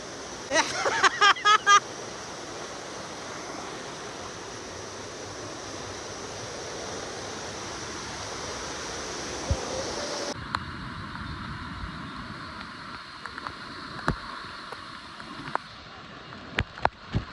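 Rain-swollen Gharpi waterfall in Sindhudurg, a steady broadband roar of heavy falling water throughout, with a few brief sharp knocks and a short burst of voices early on.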